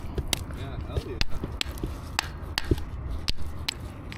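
Sharp strikes from a fiberglass hammer knock against something hard, irregular and fairly close, with rustling handling noise in between.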